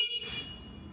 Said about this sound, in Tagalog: We also have your horn.